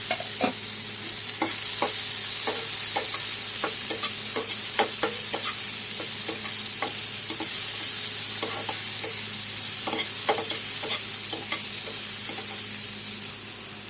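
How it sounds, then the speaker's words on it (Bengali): Chopped tomato and fried onion sizzling together in a pan for Bengali dim bhapa, a constant bright hiss with regular stirring scrapes and clicks throughout, close and unaccompanied by speech. "এখন এখানে একটা বড় সাইজের টমেটো কুচি করে রেখেছি, এটা দিয়ে দিলাম। এটাও এখন ভেজে নেব।"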